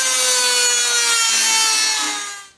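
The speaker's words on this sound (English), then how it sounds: "I'm going to route this another 1/2 inch deeper." A router cuts half an inch deeper into a wooden workbench, giving a loud, steady, close-up whine as the bit chews into the wood. The whine winds down at the end of the pass.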